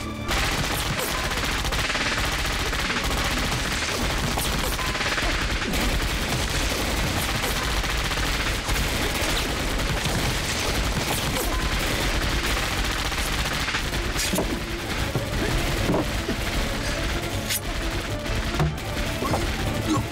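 Dense, continuous gunfire in an anti-Japanese war action drama, rapid machine-gun bursts and overlapping shots forming a loud, unbroken barrage for twenty seconds.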